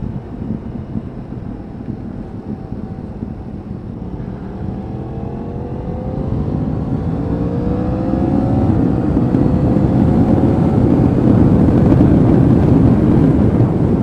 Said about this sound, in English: But the engine does sound beautiful, oh my word.